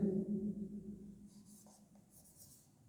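Chalk or marker scratching across a classroom board as a teacher writes, a short close burst of strokes followed by faint, sparse taps and scrapes.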